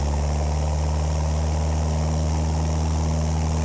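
Cessna 172 light aircraft engine and propeller running up to full power for a soft-field takeoff, a loud, steady droning roar with strong low hum, continuous and close throughout with no talk.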